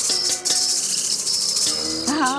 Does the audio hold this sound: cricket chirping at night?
yes